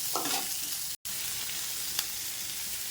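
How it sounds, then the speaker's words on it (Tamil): Onions and curry leaves sauté in a hot pan, giving a steady, close sizzle with light stirring scrapes. The sound drops out for a brief moment near the start. "எல்லாம் மட்டும் நல்லா வதக்குங்க. நல்லா வதங்கட்டும்."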